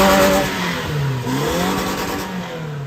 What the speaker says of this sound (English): Here we go on our maiden rev.